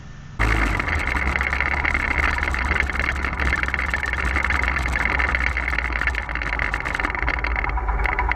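A motorbike riding around Hue city in Vietnam, its engine starting up loud and close, then a steady droning hum for several seconds with no talking.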